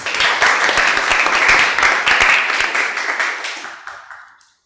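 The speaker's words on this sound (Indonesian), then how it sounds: "Ya, terima kasih, tepuk tangan." Students in a classroom break into applause, a burst of brisk clapping from a group of hands that holds steady for a few seconds and then fades out to silence.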